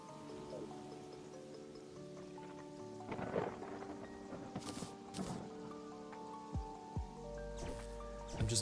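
Lightning strikes and thunder rumble during a storm in the video game Terraria, several loud cracks and booming bursts over a steady patter of rain and a faint synthetic musical drone.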